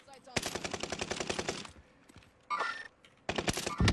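Rapid automatic gunfire in a shooter video game comes in a long, close, loud burst, then a pause, then shorter bursts, with talk faintly underneath.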